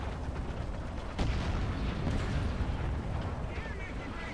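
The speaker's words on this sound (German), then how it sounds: "Wartet jetzt hier, glaube ich, den Artillerie-Strike ab." Artillery strike in the War Thunder tank game, a heavy distant boom at about a second in followed by a second thump and rumbling, over continuous engine and battlefield noise.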